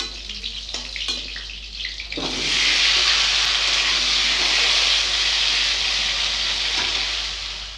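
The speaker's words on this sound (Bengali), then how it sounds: "এইভাবে আলুগুলোও ভেজে নেব" Potatoes drop into hot oil in a pan for a cauliflower and meat curry. A few quiet clinks come first, then a loud, steady sizzle that continues for several seconds.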